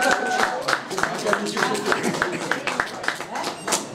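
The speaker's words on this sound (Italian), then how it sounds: "Raffaele Vaudengo, applauso per lui" Audience clapping for a violinist at a shop opening, a rhythmic run of distinct hand claps beating at a steady tempo, with voices and crowd murmur underneath.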